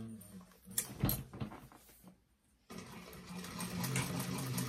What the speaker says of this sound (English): I'm going to baste that pocket to the back.